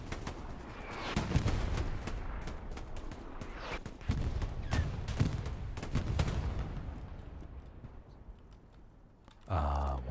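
Artillery shells and gunfire boom and crack through a competitive match of a war video game, with repeated heavy thumps and scattered shots at mid distance over steady battlefield noise, ending in a louder blast.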